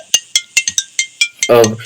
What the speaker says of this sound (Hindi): अरे भाई किसका फोन बज रहा है यार?